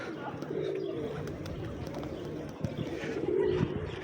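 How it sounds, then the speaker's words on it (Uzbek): Pigeons cooing in a city park, soft repeated low coos at moderate distance amid light ambient noise, with faint background voices. "Voy, yomon ko'p kaptar ekan deyapti."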